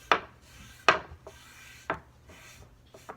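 Cloth or brush rubbing stain onto a wooden farmhouse sign, heard as four separate scrubbing strokes, each a brief close scratchy swipe against the wood with quiet pauses between and no talking.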